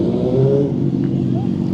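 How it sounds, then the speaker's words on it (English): Motorbikes rumble and rev at an evening bikers' gathering in Hunstanton, a steady loud engine drone with a rising rev near the end and indistinct voices mixed into the background. "there's a few bikes here. Some noisy ones as well"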